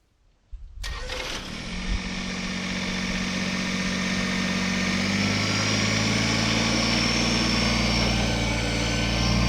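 A Kubota BX compact tractor engine cranks and catches, then settles into a steady, loud droning run that holds for several seconds, with no voices over it.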